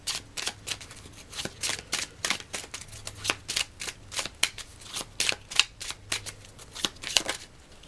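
Tarot cards are shuffled by hand, giving a rapid, steady patter of crisp riffling clicks that sound close up, with no talk.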